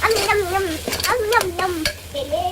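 Ginger garlic paste stirred into a sizzling pan for chicken biryani made with seeraga samba rice; steady frying hiss with scraping stir strokes, close and fairly loud, with a melodic voice singing over it.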